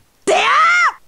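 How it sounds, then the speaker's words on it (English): The Windows Live Movie Maker completion sound: a short synthetic chime-like tone swells in, holds for about half a second with rich harmonics, then glides downward and stops. "when you finish a Windows Live Movie Maker video,"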